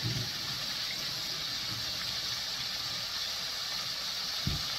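Tap water running for a quick hand wash in a home kitchen, a steady faint hiss of flowing water with a soft splash near the end.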